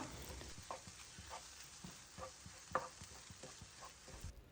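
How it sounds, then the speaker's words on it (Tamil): Egg being stirred and mixed in a pan for egg kothu idiyappam, soft sizzling under repeated light scraping strokes of a spatula, quiet and close. "இந்த முட்டையை நல்லா மிக்ஸ் பண்ணி விடுங்க"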